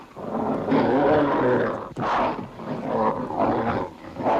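A dog named Rasputin attacking on command indoors, loud snarling and growling in a sustained burst, a sharp break, then more rough growls and barks close by.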